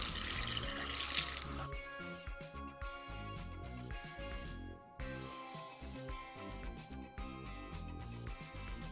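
Water pours briefly into an Instant Pot from a tap, a close splashing gush at the start that gives way to quieter dripping and trickling.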